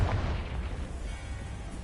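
Confringo blast spell exploding in Hogwarts Legacy, a short dull boom with rumbling low end that fades over about two seconds, heard alone.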